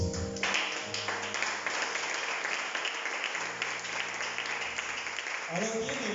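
A church congregation claps steadily in acclamation of the Lord, a dense, sustained wash of applause mixed with voices, continuous and fairly loud throughout.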